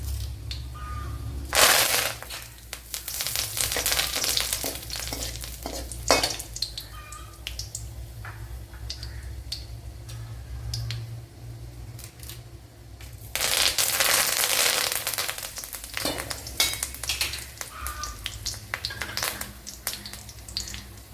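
Curry leaves dropped into a hot pan for Alappuzha-style ginger curry, sputtering and crackling in loud bursts, with scraping stirring between them, no talking.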